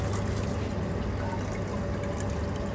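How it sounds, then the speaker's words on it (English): Water runs steadily from a pipe into a measuring cylinder in a lab flow apparatus, a continuous close splashing trickle with no break. "We start the stopwatch as soon as the water is being poured here."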